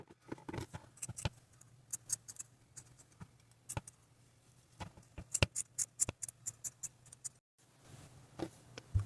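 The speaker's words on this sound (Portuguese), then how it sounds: "fazendo os cortezinhos para arredondar, tá? Aí você vai cortar de acordo com o seu gosto" Scissors snip around a crochet yarn pompom to round it off, giving a quiet series of short, irregular cutting clicks close by, some in quick clusters, under a faint steady hum.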